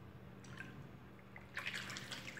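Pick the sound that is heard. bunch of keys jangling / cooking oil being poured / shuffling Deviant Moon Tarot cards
cooking oil being poured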